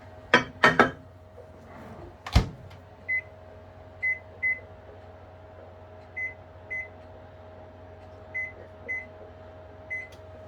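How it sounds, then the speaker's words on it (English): A microwave oven melting chocolate hums steadily after a few sharp clunks from the door. Short, evenly spaced beeps sound in pairs over the running hum. "So the next stage is to melt all the chocolate in the microwave."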